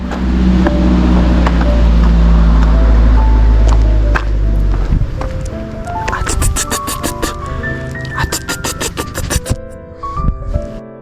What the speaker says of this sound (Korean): 어, 차 온다. 야, 차 온다.